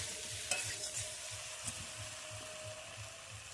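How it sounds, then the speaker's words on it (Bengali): Jackfruit with prawns being stir-fried in a pan, a faint sizzle under rhythmic scraping strokes of a spatula repeating roughly every half second, with a couple of sharper knocks. "এঁচোড়টা ভালো করে কষিয়ে নিয়েছি"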